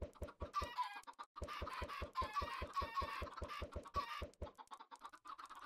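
Chickens clucking in the video game Minecraft, a steady rapid series of short repeated clucks with brief bursts of scratchy fluttering between them, close and clear with no talking.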